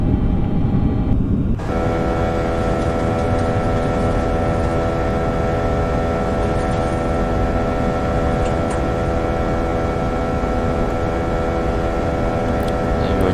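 An A320 airliner's jet engines at climb thrust in the Prepar3D flight simulator give a loud, steady broadband roar with a constant tonal hum that holds for over ten seconds, following a brief lower segment.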